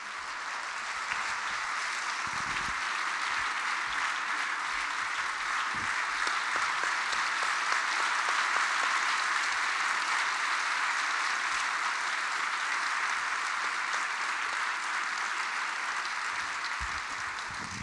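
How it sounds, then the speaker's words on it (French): A theatre audience in Pau applauds steadily and loudly for actor Jacques Weber, a dense, even wall of clapping that holds for many seconds without a break. "On applaudit celui qu'on a aimé."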